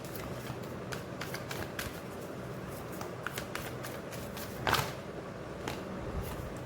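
Oracle cards being shuffled and drawn, soft close riffling and flicking with occasional sharper snaps, quiet and continuous without speech.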